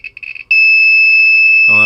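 A Geiger counter sounds a loud, steady high-pitched electronic alarm tone set off by uranium, following a few short beeps, with a burst of voice at the very end.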